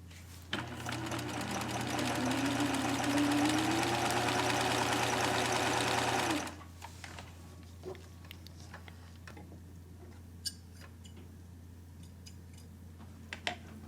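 A sewing machine stay stitches inside the seam allowance of a skirt hip, running in a loud, steady mechanical hum for about six seconds before stopping, leaving faint ticks and handling noise.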